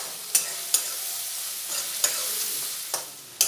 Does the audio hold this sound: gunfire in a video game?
no